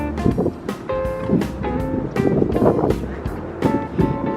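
Wind blows over a microphone at Henderson Beach in Destin, Florida, giving a loud, steady rumble with low gusts. Children's voices rise above it and come and go throughout.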